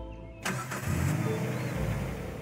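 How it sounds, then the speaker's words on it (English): A car engine is remotely started, cranking with a sudden burst and then settling into a low, steady idle rumble nearby, no one talking. "the car's remotely started and I haven't even been in the car"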